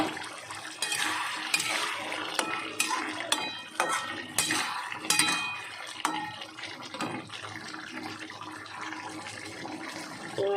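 Kitchen clatter while potato curry cooks: a pot lid comes off and metal pots and utensils knock and scrape in a run of sharp irregular clinks, with faint running water in the background.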